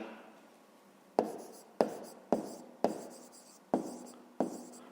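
Pen on paper: six crisp, evenly spaced strokes tap out across a quiet room, each a sharp scratch that fades quickly, with no talking during the writing.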